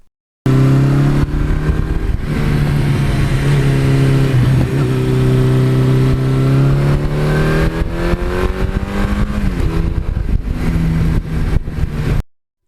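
A Suzuki GS1100E motorcycle, 42 years old with 78,000 miles, idles loudly up close, its engine rumbling steadily and revving up and down across the stretch, with no talk.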